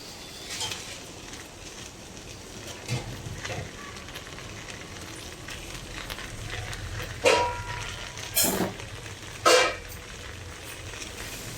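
Ginger garlic paste frying in oil in an electric pressure cooker, a low steady sizzle with a few louder stirring scrapes and clanks, close and without talk.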